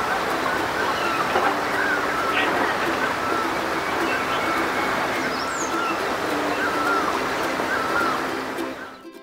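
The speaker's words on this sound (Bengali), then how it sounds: "নদীর আওয়াজ শুনতে, পাখির ডাক কিচিরমিচির শুনতে খুবই ভালো লাগবে।" Steady broadband rush of a flowing river near a park in Takdah tea-garden hill country, with scattered faint bird chirps above it, continuous and moderately loud until it fades out at the end.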